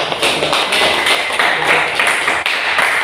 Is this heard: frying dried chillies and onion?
no